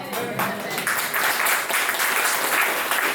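A church congregation breaks into loud, sustained applause and cheering that fills the room throughout, with voices mixed into the clapping.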